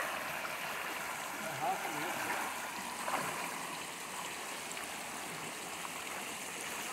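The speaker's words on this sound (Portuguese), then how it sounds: "Olha a quantidade de água." Steady broadband rush of a stream of flowing water, heard outdoors on a drive around Pedro de Toledo, São Paulo, continuous and fairly loud throughout, with faint voices mixed in.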